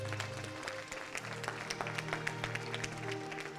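A church congregation claps together in a steady, dense wash of applause during a worship service, with a sustained musical drone underneath throughout.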